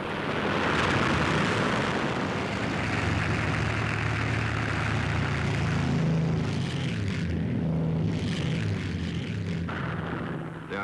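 Propeller engines of a large wartime German Luftwaffe formation drone overhead in a dense, sustained roar, steady in level and filling the whole stretch without pause.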